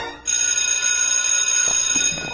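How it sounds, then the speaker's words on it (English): School bell ringing in a classroom, a loud continuous electric ring that starts abruptly and holds steady, with faint voices or movement near the end. "That can't be the bell!"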